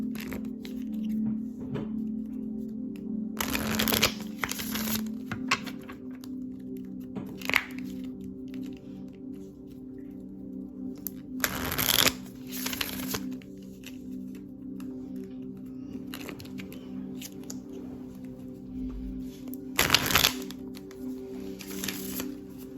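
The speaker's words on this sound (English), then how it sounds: "let me go ahead and draw one more card for you" Tarot cards are shuffled and drawn in several brief papery riffles and snaps, spaced apart over a quiet room with a steady low hum.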